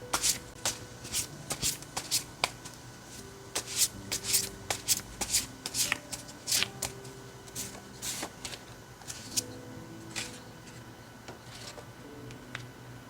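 Tarot cards being shuffled close by, a steady run of crisp riffling flicks and soft sliding rubs at an even pace, moderately loud against a faint hum, with no speech.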